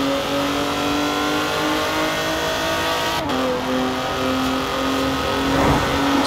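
An Alfa Romeo Stelvio Quadrifoglio SUV on snow tyres in Forza Horizon 4 drives near Edinburgh, its engine humming steadily and loudly through the gears with a brief shift dip midway and a rising rev near the end.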